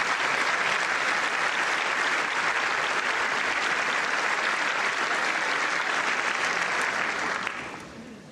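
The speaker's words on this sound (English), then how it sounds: "The No Kings crowd giving a standing ovation to the king, by the way." A crowd gives a standing ovation, sustained loud clapping from many hands that holds steady for several seconds before fading out at the end.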